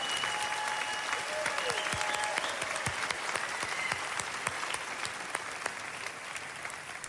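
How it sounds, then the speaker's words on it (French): An audience applauds Daniel Ganser at an Anti-Zensur-Koalition conference, a steady, fairly distant wash of clapping across the room with a few sharper claps standing out. "Applaudissements pour Daniel Ganser."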